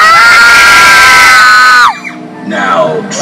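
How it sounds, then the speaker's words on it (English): A group of visitors at a haunted Halloween attraction on a farm screams together on cue, loud and close, in one sustained shriek that cuts off sharply, followed by fainter scattered yelling and chatter. "After three, you must all scream as loud as you can."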